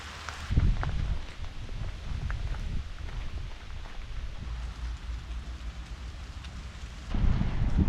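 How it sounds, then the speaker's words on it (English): Heavy rain falling while hiking the Great Glen Way in Scotland, a steady dense hiss with rumbling wind buffeting the microphone, louder gusts at the start and end. "Rain is getting heavier"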